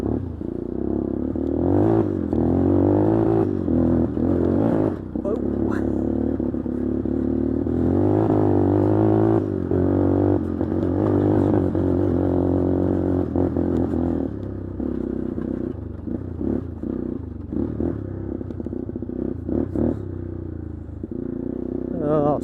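An old Yamaha Warrior 350 ATV engine revs and putters unevenly while being ridden through mud, with clattering and scraping over the rough ground and a rider talking over it.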